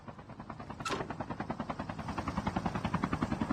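Helicopter in Call of Duty: Mobile battle royale, a steady rapid rotor chop building and growing louder over a few seconds after a brief sharp burst, with no voices.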